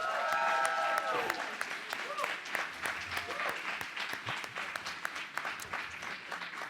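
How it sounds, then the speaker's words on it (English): A crowd at a university graduation celebration gives a big round of applause, a dense wash of clapping with sharp individual claps and some cheering throughout, holding fairly steady for nearly seven seconds. "big round of applause?"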